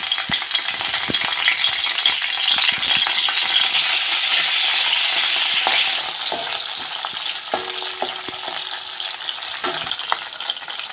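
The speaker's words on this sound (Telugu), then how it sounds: "పేనం కాలేక ఆయిల్ వేసుకోవాలి. వేసుకుని కరివేపాకు వేసుకోవాలి." Curry leaves frying in hot oil in a pan on the stove for a kanagadathalu pulusu, a steady loud sizzle and crackle throughout with occasional light stirring clinks and taps.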